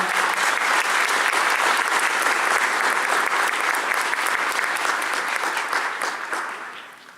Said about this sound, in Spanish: Un aplauso a la Virgen María